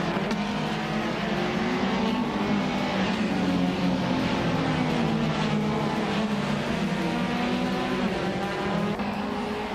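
Race cars in a video game race roar together in a steady, loud engine drone with layered revving and overlapping motors, continuous for the whole stretch.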